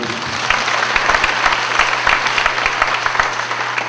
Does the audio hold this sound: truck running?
no